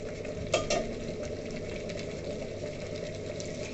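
Water is poured into a simmering fish-head curry and stirred, making a faint bubbling hiss with a couple of soft spoon clicks near the start. No one talks.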